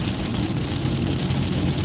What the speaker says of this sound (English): I want you to hear this. All this water kicking up.